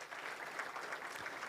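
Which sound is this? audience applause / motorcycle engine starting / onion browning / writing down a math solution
audience applause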